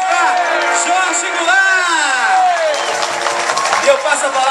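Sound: crowd applause and cheering

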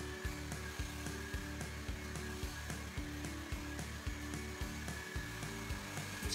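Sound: hair dryer blow-drying hair with a round brush

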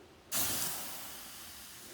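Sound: water hissing inside a hot cylinder

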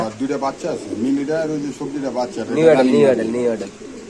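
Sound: pigeons cooing

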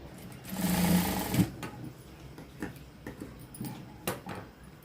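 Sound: sewing machine stitching blouse cloth

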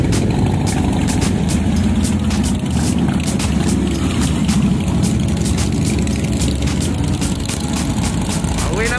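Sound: Harley-Davidson motorcycle engines idling

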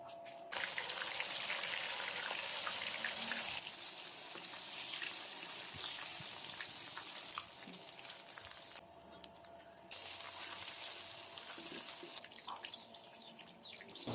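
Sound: chicken feet coated in breading mix frying in oil

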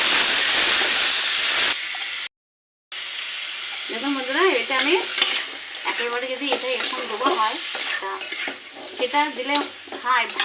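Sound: ingredients added and stirred in hot ghee

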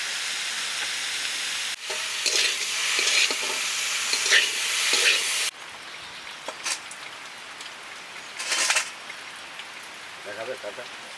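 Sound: banana flower being stir-fried with potatoes in a pan

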